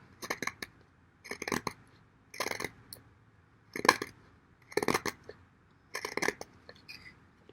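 A Bestech Swordfish pocket knife shaves curls off a stick while carving a feather stick, giving six evenly spaced bursts of scraping, each about half a second long and close by, with no talk.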